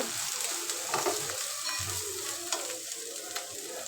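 Bitter gourd fries in a pan with a steady crackling sizzle, broken by a few louder pops and stirring scrapes, close and alone.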